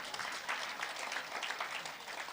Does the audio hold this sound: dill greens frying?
no